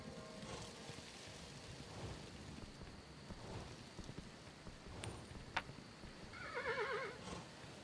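A horse in the video game Kingdom: New Lands gives a short whinny near the end, over a soft ambient game soundscape with faint rain-like texture and a couple of sharp clicks.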